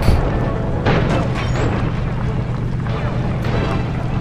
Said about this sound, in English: Keep on shelling her to stop that tank